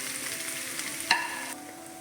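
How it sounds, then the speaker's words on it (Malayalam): Sliced onions with salt crackle and sizzle in a hot pan, a steady close frying hiss with one brief clink of a spoon midway. "സബോളയും ചേർത്ത് കൊടുക്കാം ഉപ്പും കൂടെ ചേർത്ത് നന്നായിട്ട് വഴറ്റും"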